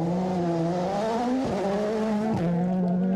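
A WRC rally car on a snowy Swedish special stage drives slowly near the stage finish. Its engine holds a steady, loud, buzzing drone with brief dips and small shifts in pitch throughout.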